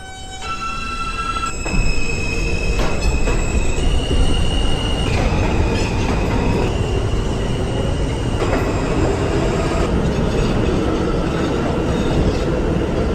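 An R subway train in the openBVE simulator runs steadily with a dense rumbling roar, rhythmic wheel clatter and high whining tones that shift in pitch as it travels, with no voices.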